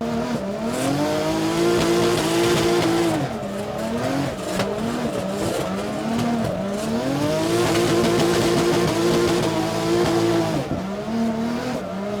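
A drift car at Rally Estonia screams through a slide with its engine revving hard and tires squealing, loud and close, the pitch rising and falling in sweeping waves for about twelve seconds.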